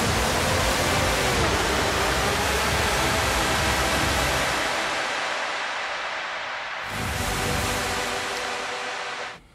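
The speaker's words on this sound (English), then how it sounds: "So what I'm going to do is really increase the size of this reverb." A dense, washy wall of broadband noise from a large reverb set to 100% wet in Traktor Pro, like heavy reverb tails smeared together, steady and loud before dropping out briefly and ending abruptly.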